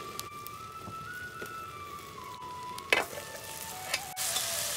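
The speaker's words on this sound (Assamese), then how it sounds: "এয়া তেল বিৰিঙিছে।" Oil heating in a pan over a wood fire for a village-style banana stem and chicken curry, giving a steady close sizzle and crackle with a few sharper pops.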